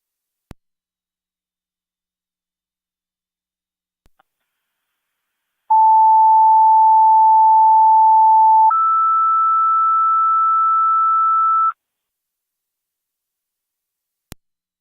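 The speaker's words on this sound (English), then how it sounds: "Third set of tones for your EMS call at well now." Fire dispatch paging tones from Niagara County Fire Control, sent over a scanner radio for an EMS call: two clean steady tones in sequence, a lower one followed by a higher one, about three seconds each, loud and clear, with brief clicks before and after.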